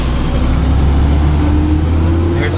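A 2001 International dump truck engine runs with a steady, loud low diesel rumble and a faint higher whine, continuous and close throughout.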